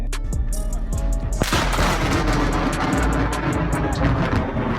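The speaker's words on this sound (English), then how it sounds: "a large positive lightning strike occurred, creating a small explosion" Large positive lightning strike causing a small explosion outdoors: a loud crack and heavy booming rumble that rolls on continuously, with sharp crackling bursts and a dense roar behind it, no clear speech.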